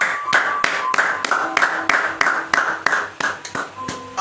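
A church congregation claps in praise during a worship service, with steady, evenly spaced loud claps in a firm rhythm over faint sustained tones.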